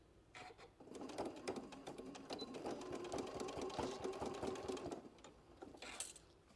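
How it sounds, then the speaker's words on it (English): A sewing machine stitches around a fabric bucket hat, starting with a quick back tack and then running a fast, even, rapid-fire clatter that is soft and continuous for several seconds. "we're just going to do a quick back tack and then go all the way around."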